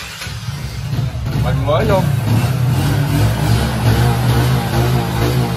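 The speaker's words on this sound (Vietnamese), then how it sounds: "để em vô phần nổ máy trên gì cho bác xem" A 2003 Honda Wave Alpha motorbike engine starts and then runs at a steady low idle, close by, while a person talks over it.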